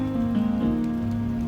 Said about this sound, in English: today it's actually going to get us out of the rain